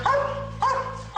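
Police dog Jonah, a patrol dog in training, barks in two loud, sharp bursts close by, with a low steady hum running underneath.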